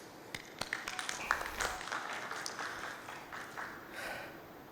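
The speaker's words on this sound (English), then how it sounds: "please give a huge round of applause for yourself" Audience applause at the New Normal Education Leadership Summit in Gujarat: a steady wash of many hands clapping in a large hall, moderately loud, with scattered sharper claps standing out.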